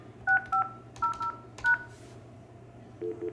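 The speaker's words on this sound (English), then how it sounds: "press the main line, *72, and the number to your answering service right away." Keypad tones from a Yealink office desk phone dialing *72 and a number: several short two-tone beeps in a quick, uneven sequence, clear and close over a faint steady hum.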